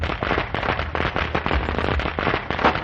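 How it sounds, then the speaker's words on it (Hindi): Rapid, dense crackling bursts of firecrackers going off continuously, loud and close, with overlapping pops and no pauses. "पटाखों की आवाजें गूंज रही थी"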